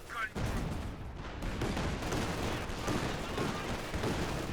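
Battle audio from the World War II strategy game Company of Heroes 2: a dense, continuous rattle of gunfire and combat noise runs throughout, with a machine gun firing amid other shots, close and loud.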